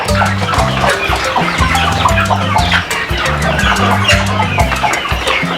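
A broody hen clucks loudly and close by, giving a run of repeated short clucks that sounds busy and insistent. No talking is heard.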